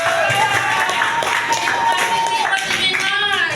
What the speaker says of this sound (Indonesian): Itu keren banget, tepuk tangan dong.